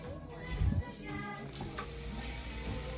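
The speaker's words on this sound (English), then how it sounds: "Garlic and shallots are in. The bacon grease cooking." Garlic and shallots frying in bacon grease give a continuous soft sizzle, close but fairly quiet, with a brief low thump of stirring early on.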